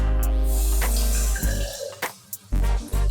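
Water pours and drips into a nearly empty jar while meatloaf is being made in a kitchen, a close splashy trickle broken by short bursts and pauses over a few seconds.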